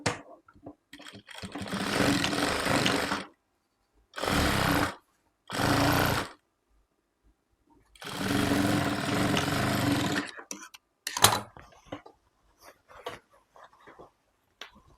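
A sewing machine stitches a school uniform skirt in four separate bursts of close, rapid mechanical whirring, the last two short. Quiet handling clicks and rustles fill the pauses.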